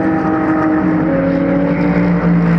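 Renault RS01 race car of AB Autosport overtaking a Mercedes at Magny-Cours in a ROSCAR 100 race, a loud steady engine drone with layered tones from the close pack of cars and no voices.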